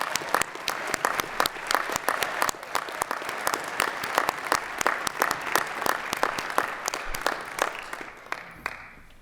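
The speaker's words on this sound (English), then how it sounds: "we'll give our instructional staff and the graduates one more round of applause" A crowd at a paramedic class graduation gives a hearty round of clapping, many individual claps distinct and crisp, sustained at a steady level for several seconds before thinning out at the end.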